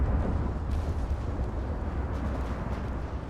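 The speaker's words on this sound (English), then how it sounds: "they had an ammo detonation" An ammunition detonation explosion on an enemy battleship in a naval warfare game, heard as a sustained low, rumbling roar at moderate level with no talk over it.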